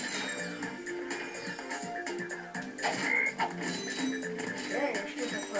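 Frogs croak on a planet in the Ratchet and Clank game, with repeated croaks blended into a dense, busy layer of game music and mechanical effects.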